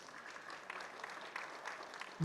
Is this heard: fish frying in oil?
no